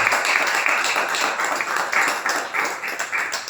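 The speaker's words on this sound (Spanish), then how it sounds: "¿Cuánto le dan un aplauso fuerte al Señor?" Loud clapping from a church congregation answering a call for applause to the Lord, a fast, dense patter that swells and dips slightly across a few seconds.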